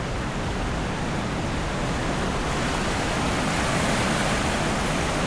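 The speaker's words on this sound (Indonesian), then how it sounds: "gue ngeliat debit air yang bener-bener kencang banget ini" A flooded river in Padang surges past at high volume, a dense, roaring rush of water that fills the scene evenly and stays close and loud throughout, with no speech over it.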